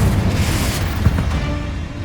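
An explosive spell blast in the Hogwarts Legacy video game gives a loud, booming burst with a rolling rumble that fills about two seconds and includes a sharper pop midway.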